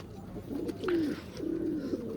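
Pigeons of Bhuchal, Banaras, Golden and Teddy breeds and old wild pigeons, one giving two soft, low coos close by over faint background noise.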